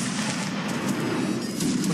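A musket line fires a volley in the Napoleonic Waterloo line battle of Mount and Blade, heard as dense, sustained crackling gunfire with overlapping shots that stays loud for the whole moment.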